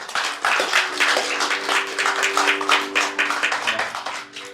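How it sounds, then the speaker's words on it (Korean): Church congregation applauding newly introduced ministry workers at a Sunday service, a dense, steady round of clapping from many hands that carries on for several seconds with a faint tonal hum underneath. "잘 감당하시도록 박수로 격려해 주시기 바랍니다"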